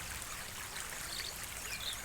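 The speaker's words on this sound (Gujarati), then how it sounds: "કેટલું બધું પાણી આવે, જો બધું ખેતરોમાંથી ચાઈથી આવે છે" Rainwater flowing in from cotton fields toward a village pond after heavy rain, a soft continuous trickling and gurgling stream heard from a distance.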